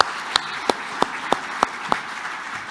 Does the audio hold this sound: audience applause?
yes